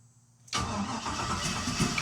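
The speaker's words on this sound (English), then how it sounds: "that starter kicked it up" A truck engine sits silent, then catches abruptly on the starter and settles into a loud, steady idle close by.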